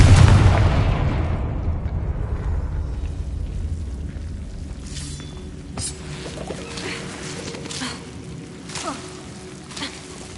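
Confringo explosion spell in the video game Hogwarts Legacy: a loud, deep blast at the start that rumbles and fades over several seconds into crackling debris and faint background noise.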